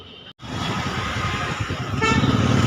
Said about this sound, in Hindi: अपनी रोड पे आ गए, full to traffic as usual.